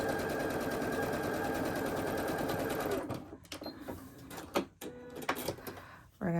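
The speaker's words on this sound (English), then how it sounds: "We're going to sew 1/4 inch down the seam." A sewing machine stitching a quarter-inch seam on a quilt block runs in a steady, fast, close whir for about three seconds, followed by fabric handling, clicks and soft knocks.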